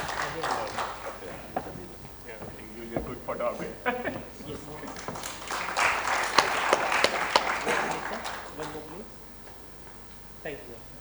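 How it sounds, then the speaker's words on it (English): Conference audience at an electrotechnical standards summit applauding the speakers, a sustained burst of clapping that swells mid-clip and fades, with voices talking over it. "May I have a big round of applause for the speakers?"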